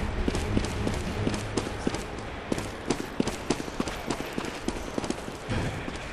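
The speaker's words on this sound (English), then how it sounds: "I hear footsteps." Footsteps in the video game CS:GO, a quick run of sharp, evenly spaced steps pattering close by across the whole stretch, with no talk.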